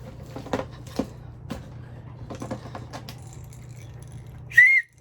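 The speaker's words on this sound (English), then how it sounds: "As long as you have air in your lungs, you can blow a whistle." After a few soft clicks and taps, one short, loud, shrill whistle blast sounds at the very end.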